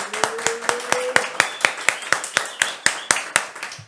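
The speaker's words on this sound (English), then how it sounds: "Give me another round of applause." A small audience claps at a late-night football comedy show, the individual sharp claps distinct and rhythmic, with a faint tonal sound early on and no talk over it.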